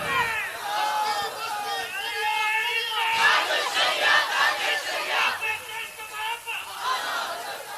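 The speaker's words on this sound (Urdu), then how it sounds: "نعرے کم لگاؤ" A large crowd at a Sunni religious gathering shouts in loud, rhythmic unison, voices rising and falling in repeated bursts that fill the whole stretch.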